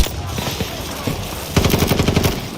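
Battlefield 2042 gunfire: scattered shots, then a loud, fast automatic burst of close rounds in an even rhythm, with some talk underneath.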